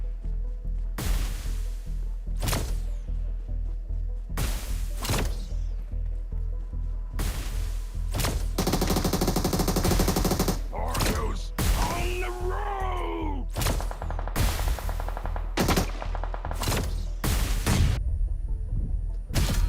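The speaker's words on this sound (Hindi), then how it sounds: "अब यहाँ देखो मेरे हाथ में जो गन है हनी बैजर, अब मैं इसका यूज करने वाला हूँ" A Honey Badger gun fires in a video game in repeated loud bursts, each a few seconds apart, mixed with game effects and a stretch of denser noise, with no voice over it.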